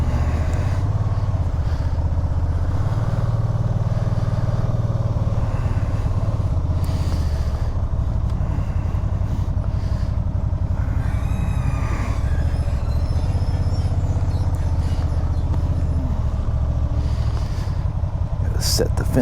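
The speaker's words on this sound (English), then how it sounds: "we're gonna take this 2011 RT-S for a ride around the block." A 2011 Can-Am Spyder RT-S three-wheeler with a repaired water pump and ACS hums along on a ride, a loud continuous low engine drone with wind rush and slight shifts in pitch, a voice talking over it.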